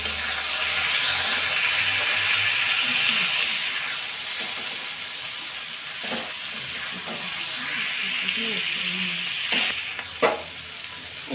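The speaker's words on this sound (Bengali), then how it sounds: "স্বাদ মতো নুন দিয়ে আবার কিছুক্ষণ ভাজবো" Mixed vegetables and greens sizzle and hiss in a pan, seasoned with turmeric and salt, with a loud, steady frying sound and occasional stirring scrapes and clinks, no talk.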